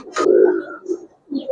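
Pigeons at a pigeon market, Giribaz and colouring breeds, give a close, loud throaty coo followed by shorter soft coos and a faint chirp, with no one speaking.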